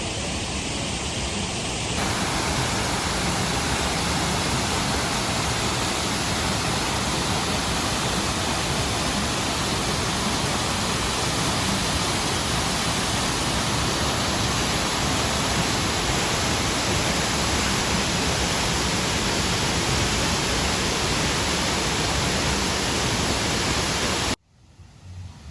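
Cascadas de la Luna waterfall in Nicaragua roars as a steady, dense wash of rushing water, loud and unbroken almost to the end, with no voices over it.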